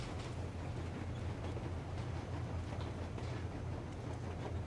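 A moving train in the video game Metro Exodus, a steady low rumble with continuous rolling rail noise, moderately loud and unbroken throughout, with no talking.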